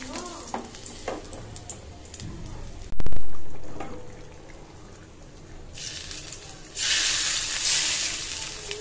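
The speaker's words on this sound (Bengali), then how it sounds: "তেলটা গরম হতে থাক, এর মধ্যে আমি রসুন কুচি দিয়ে দিব।" Chopped garlic hits hot oil for a pumpkin and rui fish curry. A sudden loud burst of sizzling follows a thud, then a bright hiss surges up again near the end, with light kitchen clatter.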